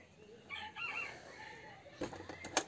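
Chickens on a farm with Wyandotte hens among them, giving clucks and calls, and a rooster crowing loudly near the end over a quiet yard.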